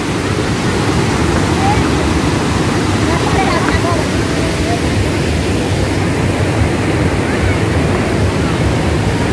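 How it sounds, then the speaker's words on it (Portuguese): Waterfall at Cachoeira do Urubu swollen with unusually heavy mid-February water, a loud, constant roar of rushing water with no break throughout. "tivemos esse tanto de água agora, essa queda d'água toda"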